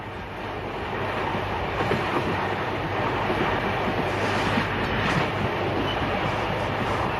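The Ghan train runs along the standard gauge railway between Port Augusta and Marree in 1980, its steady rolling rumble swelling slightly, with faint rhythmic clickety-clack of wheels over rail joints throughout.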